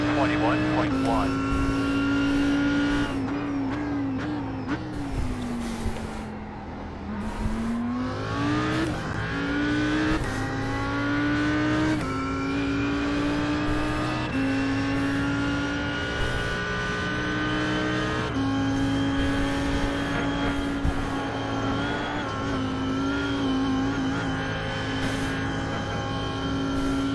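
An Audi R8 GT3 race car laps Spa in iRacing, its engine a loud, continuous close drone that dips in pitch through a slower section around the middle before revving back up, with gear changes breaking the tone and a voice talking now and then.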